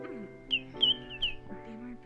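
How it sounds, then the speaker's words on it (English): Bright whistled bird chirps in a metaverse roleplay game, several short rising calls in a loose rhythm over a low, steady background hum. "I hear birds."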